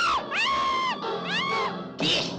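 Shrill, rising-and-falling screams from a 1973 horror film trailer come in three loud bursts, each held for around half a second to a second, close and piercing.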